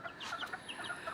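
Young Aseel/Boston over SBR/Tornado crossbred chicks cluck and peep in quick, faint, overlapping calls at close range.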